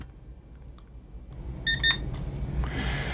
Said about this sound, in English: And we set the timer for 2 minutes.